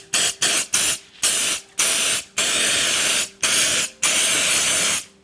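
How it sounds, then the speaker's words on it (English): Short bursts of aerosol mould release hiss onto a mould surface, about ten sprays of varying length separated by brief pauses, close and loud with no talking. "So you just want to spray it over the complete surface where you will be pouring your silicone"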